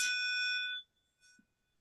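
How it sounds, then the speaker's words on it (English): A class bell rings in a single bright electronic tone lasting under a second, then cuts off, followed by a faint short echo-like blip in an otherwise quiet room. "Was that the bell? The class bell."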